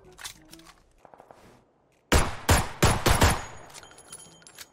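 A hard-recoiling pistol and shotgun in a video game fire a handful of loud, punchy shots in quick succession after a quieter stretch of soft clicks and muffled movement.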